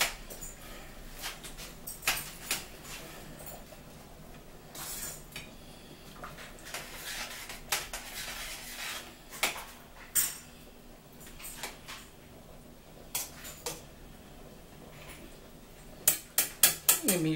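Sloppy joe being stirred in a pot, a spoon scraping and clinking against the metal in irregular knocks and bursts, loudest near the end, close and fairly quiet.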